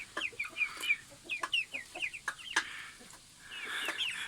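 Chickens cluck and chirp close by while being fed, a busy run of short clucks and peeps with several birds overlapping, growing into a denser chatter toward the end.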